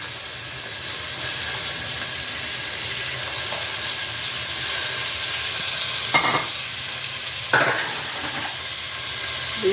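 Half a kilo of mutton frying in a pan, a steady bright hissing sizzle throughout, with a few brief stirring scrapes near the end.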